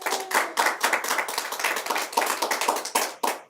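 Close, lively clapping from an audience at an elementary school awards assembly honouring volunteers, sharp irregular claps filling the room with no talk.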